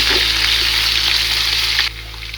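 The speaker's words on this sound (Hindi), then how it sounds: "अदरक लहसुन के पेस्ट को 3 मिनट फ्राई करने के बाद" Ginger garlic paste sizzles steadily in a hot pan for chicken biryani, a close, dense frying hiss that drops slightly in level near the end.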